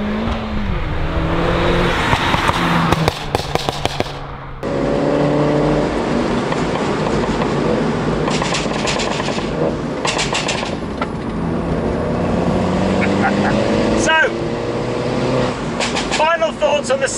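Modified Mini fitted with coilovers driving along a good stretch of road, steady engine note and road noise throughout, with a person talking over it.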